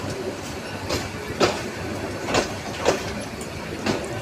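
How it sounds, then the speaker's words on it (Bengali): The Lalmonirhat to Dhaka passenger train rolls past a nearly empty station platform at night, its wheels striking rail joints in a regular clack roughly every half second over a steady low rumble. "একদম right time ট্রেনখানা Lalmonirhat two Dhaka"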